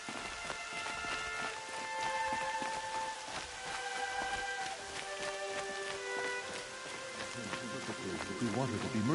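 Steady rain falls in a PS4 video game, a dense constant patter with game music tones layered above it and voices present.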